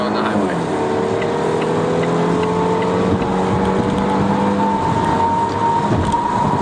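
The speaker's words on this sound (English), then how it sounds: "I'm flooring the car now on the highway." A 2019 Volvo S60 T6 R-Design at full throttle on a highway, its supercharged and turbocharged four-cylinder engine droning steadily louder with pitch climbing through the gears, mixed with road and wind roar from inside the cabin.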